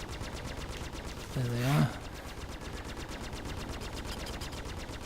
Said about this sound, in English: definitely these gimbaled guns are quite good at getting the shots off